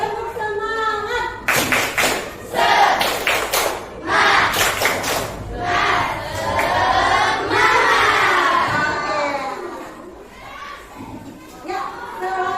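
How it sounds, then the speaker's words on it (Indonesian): A school class does a rhythmic spirit clap, with bursts of quick, loud, patterned clapping and children's voices chanting and shouting along, then a stretch of lively group voices. "Oke, tepuk semangat"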